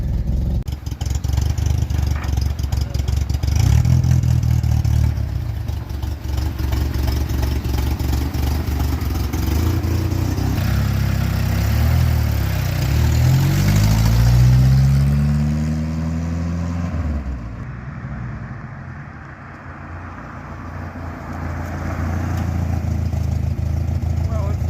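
A 1986 Jeep Comanche pickup engine idles steadily, loud and close, its low drone rising and falling in pitch midway as it settles, with people talking over it.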